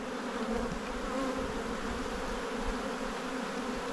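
Honey bees buzz around an opened hive box in a spring apiary, a dense, steady drone of many wings close by, unbroken and alone without voices.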